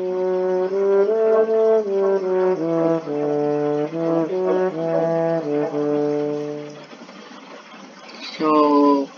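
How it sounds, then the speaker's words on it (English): A brass-family trombone plays a series of held and repeated low notes, full and close, before a brief higher phrase near the end, with no voices. "and here's the sound of trombone."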